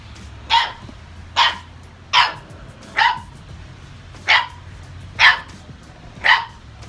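A small puppy yaps insistently at a grown dog eating out of its bowl, seven sharp, high barks spaced fairly evenly, close to the listener, with nothing else but a low background hum.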